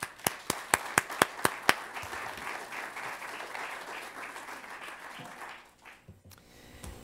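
An audience applauds to welcome a speaker at a talk on spiritual issues in serious and terminal illness, opening with several sharp, evenly spaced claps before swelling into steady, sustained clapping that fades out near the end.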